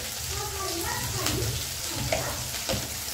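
Very hot oil sizzles in a pan while fenugreek greens are cooked in a home kitchen, a steady dense crackling hiss that runs throughout without pause, with a few soft clinks and stirring sounds.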